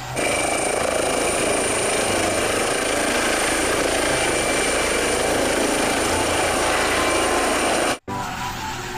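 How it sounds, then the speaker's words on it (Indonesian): A helicopter's steady rotor chop and engine whine fill the air continuously, loud and close, with a brief cut near the end. "Ada helikopter."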